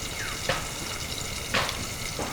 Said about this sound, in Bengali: আমি ঢাকা দিয়েই ভেজে নেব